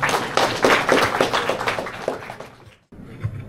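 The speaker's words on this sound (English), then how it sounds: "So guys, everyone, let's quick round of applause for Doc." At a tech meetup, the audience gives a brief round of applause for a speaker, a close patter of claps that fades out and then drops to near silence.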